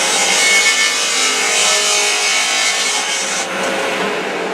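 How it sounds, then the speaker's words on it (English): A table saw rips through a maple board in a loud, continuous, close cutting roar that holds steady for several seconds before easing slightly near the end. "First thing I'm going to do with this piece of maple is cut it on the table saw."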